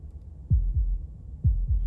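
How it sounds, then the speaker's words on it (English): Heartbeat sound effect in the horror visual novel game Slay The Princess: two low, thudding double beats, steady and close, with a soft hum in between and no voices. "That was the sound of a heartbeat,"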